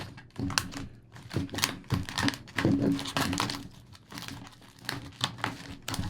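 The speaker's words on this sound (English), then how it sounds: "I'm sorry for the ASMR or cutting boxes." Close, crisp cardboard sounds, with snips and crinkles in an irregular rhythm as scissors cut through boxes, with no talking.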